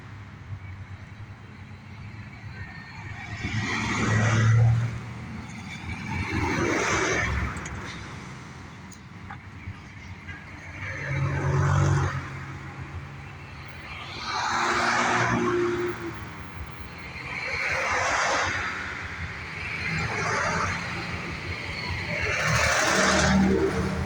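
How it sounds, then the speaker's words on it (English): Heavy road traffic passes a roadside spot, vehicles swelling and fading in repeated waves every few seconds, fairly close and steady with no break between passes. "There's a lot of traffic."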